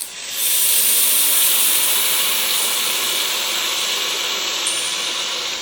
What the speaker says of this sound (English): if I disconnect the battery, you'll hear the turbine spin up as the load's taken off